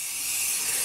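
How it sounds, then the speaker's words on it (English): Cooking spray hisses from an aerosol can onto a cake pan in a home kitchen, one steady close spray of just under a second with no talking. "spray the pan, and then you put the cake and you're ready to bake"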